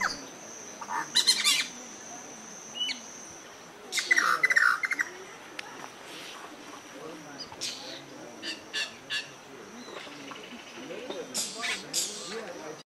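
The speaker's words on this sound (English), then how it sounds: "These Oropendula have established a nesting colony in the middle of the village." Loud liquid, gurgling calls of oropendolas come in short bursts amid softer chirps, several birds calling around a nesting colony in a Colombian village at moderate distance.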